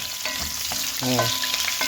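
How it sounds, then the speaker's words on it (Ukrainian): Potatoes frying in a cauldron, a steady close sizzle with a few brief stirring scrapes and clinks over about two seconds, no voices. "Ну а тут у нас поки смажиться наша картопелька."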